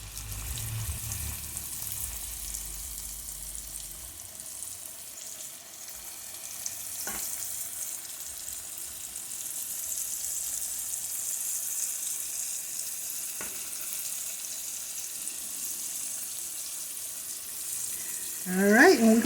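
Boneless country style ribs fry in hot oil with a steady, moderately loud sizzle that holds throughout, broken by a couple of faint clicks and a short louder clatter at the very end.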